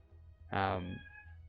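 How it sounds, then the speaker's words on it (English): A house cat gives a single clear meow near the microphone, rising then trailing off over about half a second against a quiet room. "Probably hear my cat in the background now."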